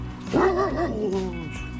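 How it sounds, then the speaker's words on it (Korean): A very large dog on the Camino de Santiago pilgrimage trail in Spain gives one short, close, throaty bark that trails into a whining yelp, with faint background sound around it. "내가 본 강아지 중에 제일 큰데?"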